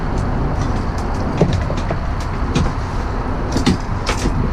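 Steady heavy traffic roar from the Fremont Bridge overhead, heard from a fishing boat on the Willamette River, with rumbling vehicles and occasional clanks and thumps over constant loud noise.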